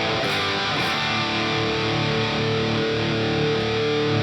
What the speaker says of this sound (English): Now going full distortion.